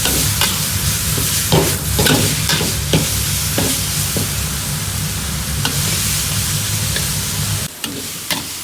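Holy basil kaprao stir-fry sizzles loudly in a hot pan, with repeated scraping strokes of the spatula breaking through a steady hiss.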